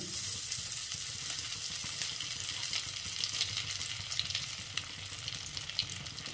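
Chopped ginger sizzles in a frying pan over lowered gas heat while cooking a Bengali vegetable bhuna khichuri, a steady bright crackle that runs unbroken throughout with no voices.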